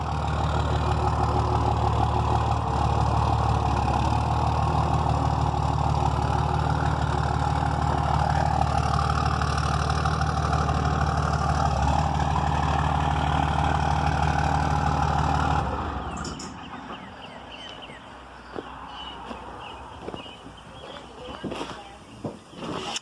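A diesel engine idles steadily at close range with a dense low rumble for about fifteen seconds, then cuts off abruptly, leaving faint clicks and room noise.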